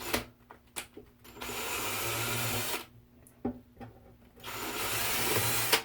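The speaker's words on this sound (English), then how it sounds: "I'm just going to go ahead and drill through." A power drill bores through a guitar headstock in two long, steady bursts, loud and close, with short pauses and clicks between runs.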